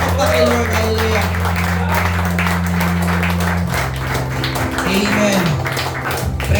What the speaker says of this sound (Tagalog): mas malakas na palakpak para sa Panginoon